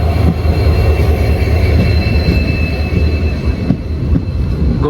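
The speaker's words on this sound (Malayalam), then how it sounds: "ഭഗവതിപുരം എത്തിയ വണ്ടി നമ്മൾ പോകുന്ന വണ്ടിയുടെ പെയറിംഗ് ട്രെയിനാണ് കേട്ടോ." Madurai–Guruvayur express passing by at Bhagavathipuram, a continuous loud rumble of wheels and carriages with a faint metallic squeal, steady throughout with no voices.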